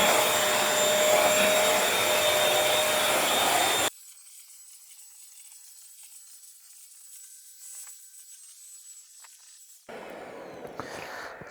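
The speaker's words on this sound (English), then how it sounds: "I'm just going to start at the top and get in the cracks now" A Bissell Featherweight stick vacuum runs with its handheld attachment, giving a steady loud whirring hiss that drops to a much quieter tone midway and then rises again as the nozzle works into cracks.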